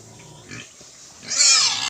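Native pigs grunt while eating banana peels and papaya, with soft low grunts near the start and a louder, higher squealing grunt toward the end.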